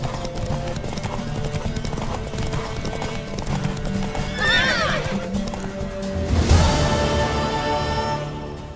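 A horse gallops in a video game race, hooves clip-clopping quickly over steady background music, with a loud whinny midway and the hoofbeats surging near the end.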